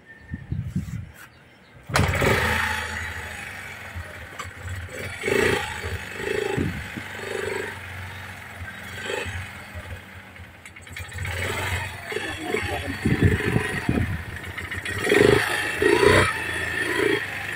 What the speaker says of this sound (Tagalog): Pandarin natin yung motor.